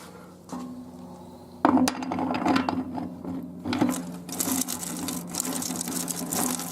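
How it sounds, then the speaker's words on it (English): Planetary gears coated with Vaseline whir and clatter inside a 700R4 automatic transmission being rebuilt, with a faint start giving way to louder bursts of metallic spinning and clinking in uneven spurts, with no talk. "Makes that sound because I put a little Vaseline on the gears inside there."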